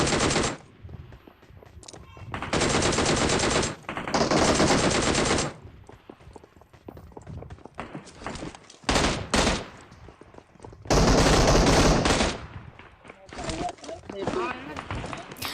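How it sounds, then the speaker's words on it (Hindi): Automatic gunfire from the video game PUBG rattles in long, loud bursts separated by quieter gaps, with someone talking throughout. "दूर से ही मेरे पे गोलियाँ पड़ रही होती हैं।"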